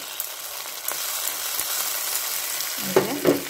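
Ginger garlic paste frying with cooked-down tomato in a pan for a chicken curry gives a steady, close sizzle, with a couple of brief stirring scrapes near the end.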